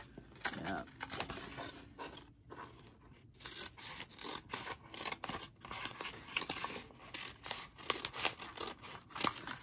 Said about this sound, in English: I'm gonna cut on this line here.